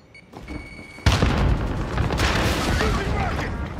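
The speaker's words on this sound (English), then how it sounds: "Allied cluster strike arriving." Cluster strike explosions in a video game: a sudden heavy boom followed by sustained rumbling blasts and debris, loud and dense, with a voice briefly under the onset.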